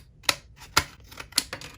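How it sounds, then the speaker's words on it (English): Scissors snipping through plastic microSD card packaging: three sharp, distinct cuts spaced about half a second apart, close and fairly loud with no talking. "let me go ahead and find some scissors so we can actually cut along the cut line"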